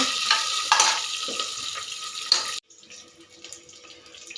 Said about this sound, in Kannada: ಹಸಿರು ಮೆಣಸಿಕಾಯಿ ಕೂಡ ಹಾಕಿದ್ದಾಯಿತು ಅದು ಸ್ವಲ್ಪ ರೋಸ್ಟ್ ಹಾಕಬೇಕು